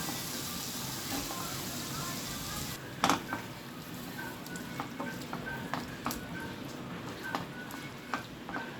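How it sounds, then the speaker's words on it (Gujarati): Potatoes tossed into a pan of spiced masala for Gujarati bhungla bateta give a steady broadband sizzle, with a sharp clatter as they drop in and scattered stirring clicks afterward, close and fairly loud. "હવે આપણે એની અંદર નાખશું બટેટા।"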